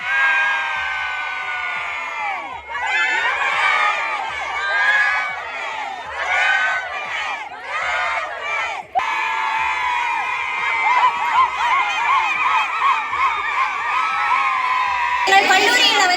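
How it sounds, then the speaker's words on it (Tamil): Female college students at a Pongal festival celebration ululate and cheer together, high warbling trills and whoops rising over crowd noise, loud and close, with a burst of shouting near the end. "மாணவியர் அனைவரும் குலவையிட்டு வானத்தை பார்த்து கரகோஷம் எழுப்பி"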